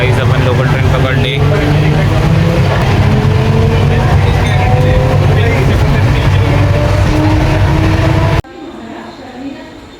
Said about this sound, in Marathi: आपण लोकल ट्रेन पकडली.